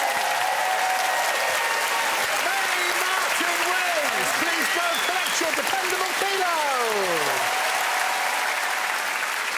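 Studio audience at a comedy panel show applauds steadily and loudly throughout, a dense continuous wash of clapping. A host talks over it, with rising and falling speech heard through the applause.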